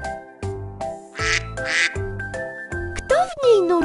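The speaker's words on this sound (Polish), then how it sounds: "Kaczka!" Several short duck-like quacks come in bursts amid cheerful music, with a bright rising squeak near the end.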